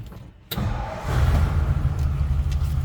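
A 1962 Ford F100 Custom Cab's 292 Y-block V8 cranks and catches after a brief silence, settling into a loud, steady, low rumbling idle close by.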